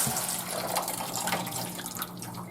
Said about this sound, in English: smell those kidney beans, nice and soaked. Gonna rinse them. Just a quick rinse